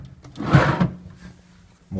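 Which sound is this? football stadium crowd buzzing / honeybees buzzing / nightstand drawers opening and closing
nightstand drawers opening and closing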